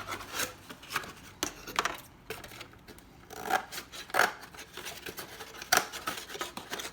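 Scissors snipping thin tinfoil pieces for a homemade book-style variable capacitor, with irregular crisp cuts and crinkly rustles, close and quiet with short pauses between strokes.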